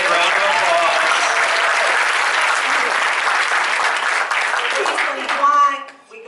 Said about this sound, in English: Give these two a great big round of applause.